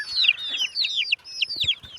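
Several chickens cluck and squawk in quick, overlapping calls among a flock of hens and roosters at a farm, fairly close and steady throughout with no talking.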